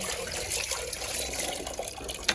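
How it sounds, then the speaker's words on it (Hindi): Water drains steadily through a freshly cleaned, previously clogged gutter line, making a continuous hissing trickle and gush that stays even throughout, with a small splash at the end and no voices. "अब पानी बेटा जा रहा है आराम से।"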